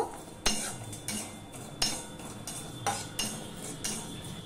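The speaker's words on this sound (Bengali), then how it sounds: "পোস্তটা দিয়ে আমি একটুখানি ভেজে নেব।" Poppy seeds dry-frying in a hot kadai while being stirred, with a spoon repeatedly scraping and clinking against the metal in irregular close, sharp strokes over a faint steady hiss.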